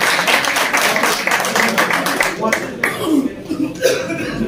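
Audience applause at a Kashmir car cup award ceremony for a second-place winner, a dense steady clatter of many hands mixed with crowd voices, fading out partway through.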